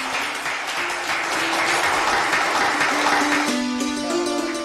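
A seated crowd at a devotional katha gathering gives a welcoming round of applause, dense and sustained clapping throughout, with faint tonal voices or music rising near the end.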